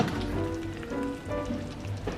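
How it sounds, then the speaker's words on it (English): A pot of rosé tteokbokki in a milk and cream sauce simmers, giving off a soft, constant bubbling crackle like light rain on a surface. "We're just gonna simmer this down now."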